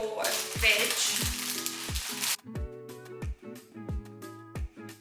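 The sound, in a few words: stirring a sizzling noodle mixture in a pan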